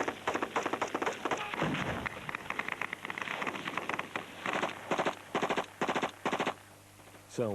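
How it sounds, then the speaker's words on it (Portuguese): Bursts of live automatic gunfire from marines training contact drills crack out repeatedly, a rapid rattling series, then sharper separate shots, outdoors and fairly close. "treinam manobras de contacto com tiro real"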